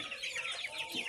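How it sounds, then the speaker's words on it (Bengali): Australorp chickens in a hatchery give a steady run of soft clucks and chirpy calls, moderately close, with no voices over them. "অস্ট্রেলিয়া মুরগিগুলো"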